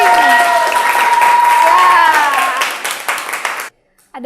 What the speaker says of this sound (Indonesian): Kelompok 4, kasih tepuk tangan dong